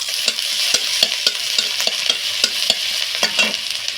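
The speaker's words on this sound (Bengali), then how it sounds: "কড়াইতে সর্ষের তেল দিয়েছি, এর মধ্যে দিচ্ছি আদা আর কাঁচা লঙ্কা" Ginger and green chillies sizzle in mustard oil in a wok, a bright continuous hiss broken by repeated sharp scraping stirs of a spatula, close and loud.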